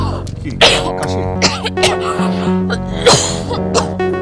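A woman coughs repeatedly in short, loud bursts close by, with throat-clearing sounds mixed in and a brief voice between the fits.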